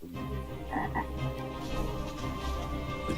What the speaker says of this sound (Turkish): Hikaye ne güzel giderken kurbağa çıktı ortaya.